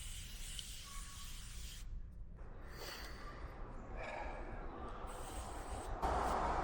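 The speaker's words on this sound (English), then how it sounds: "But you want to spray it everywhere." Tick repellent is sprayed on a hot day on a trail, in several short hissing bursts, close and fairly quiet over a soft outdoor background.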